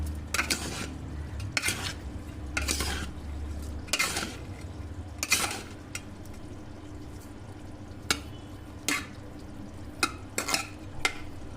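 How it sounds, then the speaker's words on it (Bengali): Cashews and raisins are fried and stirred into pulao, with a faint sizzle beneath repeated scraping clinks of a spoon against the pot, coming in irregular bursts at close range. "এবার কাজু কিশমিশটা ভেজে এগুলো দিয়ে দিচ্ছি"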